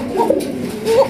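A Coca pigeon gives two soft, low coos in quick succession at close range, with a brief pause between them.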